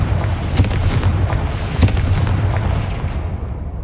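A Confringo blasting curse goes off in Hogwarts Legacy, with a few booming, explosive bursts sounding over a continuous rumbling background, close and fairly loud.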